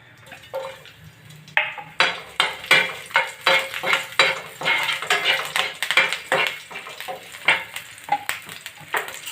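Green chillies sizzle and crackle in hot oil in a pan while being stirred, with repeated scraping strokes of a spoon against the metal in a steady rhythm, made while cooking a phool makhana and cashew curry.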